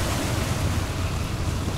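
Small sea waves wash and churn steadily at open water, mixed with wind buffeting the microphone, a continuous rough rush with no voices.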